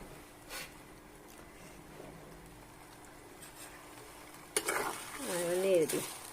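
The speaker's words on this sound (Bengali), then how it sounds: "এখন এগুলো ভাজবো। লো হিটে ভাজতে থাকবো" Black cumin and fenugreek seeds fry in oil over low heat, giving a faint, even sizzle, then louder stirring and scraping in the pan toward the end, where a voice briefly talks over it.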